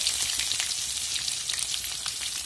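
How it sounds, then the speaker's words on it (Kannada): Curry leaves, garlic, onion and dry red chillies sizzle hard in hot oil for a tempering, a dense, continuous crackling hiss close up with no talking. "ಕರ್ಬೇವಿನ ಸೊಪ್ಪು ಬೆಳ್ಳುಳ್ಳಿ ಈರುಳ್ಳಿ ಹಾಕಿದ್ದೀನಿ ನೋಡಿ ಒಣಮೆಣಸಿನಕಾಯಿ ಹಾಕ್ಕೊತಾ ಇದ್ದೀನಿ ಈಗ ಎಲ್ಲ ಚೆನ್ನಾಗಿ ಒಗ್ಗರಣೆ ಮಾಡಿಕೊಂಡು"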